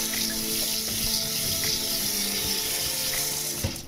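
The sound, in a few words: rinsing rice with water for onigiri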